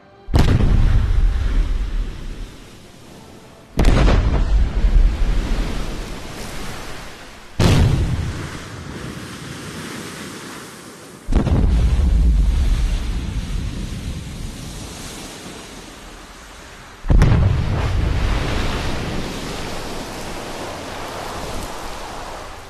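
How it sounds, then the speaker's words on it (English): Underwater TNT charges set off at various depths, recorded for Halo Infinite: five separate deep, booming blasts spaced a few seconds apart, each striking hard and then fading into a long, rolling wash. "They placed TNT underwater to capture the sounds of various submerged water explosions."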